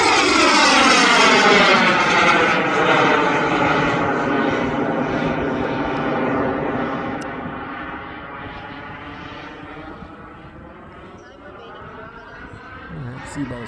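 A Hangar 9 Hawk radio-controlled model airplane on its maiden flight, engine at full throttle: a loud, sustained whining drone whose pitch falls as the plane passes, then gradually fades into the distance.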